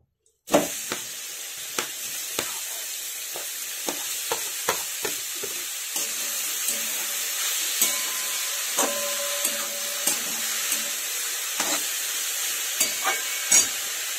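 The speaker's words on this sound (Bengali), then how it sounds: "এবার ঘিয়ের মধ্যে গাজরটা আমি হালকা ভেজে নেব" Grated carrot sizzles in hot ghee in a kadai, with a constant frying hiss broken by repeated scraping and clattering strokes of a spoon as it is stirred, close and fairly loud.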